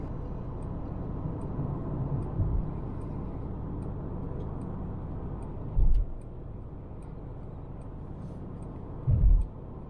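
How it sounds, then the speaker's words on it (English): A Mercedes-Benz GLC 300 4Matic engine hums steadily while driving, a continuous low drone with road noise and two brief low thumps near the end. "On the move, this engine hums with power, effortlessly propelling the GLC forward."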